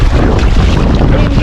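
A boat runs through big waves, giving loud, continuous rushing water and wind roar with heavy low-end pounding close to the microphone.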